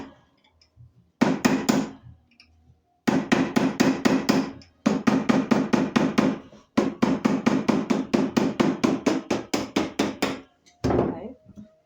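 A hammer strikes a thick metal ring shank on a mandrel in quick, steady bursts of sharp ringing blows, separated by short pauses, loud and close.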